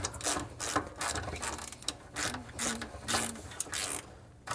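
A ratchet wrench with a 14 mm socket backs a bolt off the underside of a Nissan Z31 rear end, giving repeated bursts of quick clicking close by, in an uneven stop-start rhythm with no talking.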